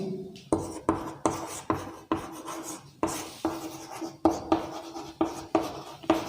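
Chalk or marker scratches across a classroom board in a steady rhythm of short rasping strokes, close and clear with brief gaps between strokes, no talking.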